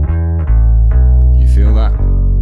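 Bass guitar played through an X drive effect on a BOSS GT-1000, with the boost below 100 Hz: loud, thick sustained notes that change pitch a few times and carry a heavy, droning low end.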